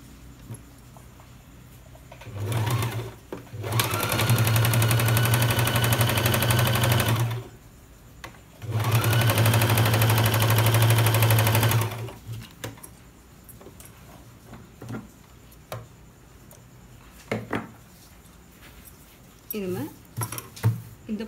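A sewing machine stitches the seams of patiala pants in two loud, fast, whirring bursts of several seconds each, with quieter pauses and someone talking around them.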